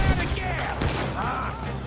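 Shotgun blasts boom in Red Dead Redemption 2 over a dense din of battle, with a sharp report standing out near the middle and voices underneath.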